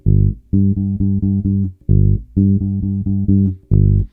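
A bass guitar plays a quick bass line at performance tempo, with clean, punchy low notes in short repeated bursts and brief gaps, close and loud with no other sounds.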